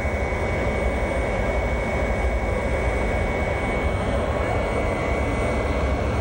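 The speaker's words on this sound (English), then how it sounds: "As the jet engines begin to rev up, it's becoming more and more difficult to hear." Air Force One's jet engines spooling up, a loud, steady broadband roar with a sustained high whine that fills the whole stretch, with faint voices beneath.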